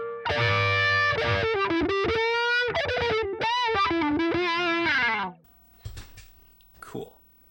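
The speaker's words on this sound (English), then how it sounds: "that was the Vowel Mini volume and wah" Electric guitar lead notes sweep through a Donner Vowel Mini wah and volume pedal with overdrive, a loud, close run of vocal-sounding filtered phrases, then a quiet tail with faint handling noises.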